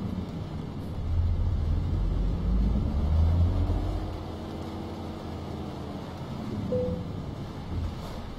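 A heavy truck in Euro Truck Simulator 2 pulls away from a standstill in Aalborg, Denmark, its low diesel engine rumble swelling as it starts moving, then settling into a steady drone with rising gear whine.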